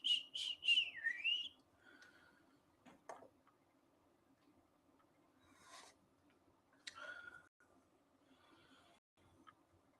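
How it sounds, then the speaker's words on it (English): A person whistles a short rising-and-falling tune of a few quick notes at the start, fairly close and clear, followed by faint scattered clicks and soft background noise. "Whistle."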